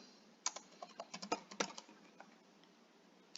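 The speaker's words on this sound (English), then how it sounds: "Then you'll type in the name" Fingers tap a computer keyboard in a quick irregular run of soft clicks, close and quiet, then pause before a final keystroke.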